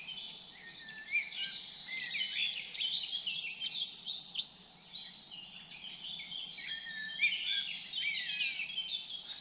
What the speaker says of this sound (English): There's birds all around singing their songs.